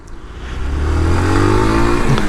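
A Yamaha YBR 125 ESD motorcycle from 2016 rides past, its engine rising in a loud, close drone that swells and then holds as it goes by, no talk.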